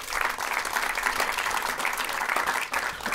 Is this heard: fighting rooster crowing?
no